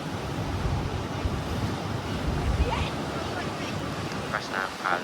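Powerful waves crash at Natural Bridge on Aruba's coast, a dense, loud wash of surf with wind rumbling across the microphone and faint voices briefly audible in the background.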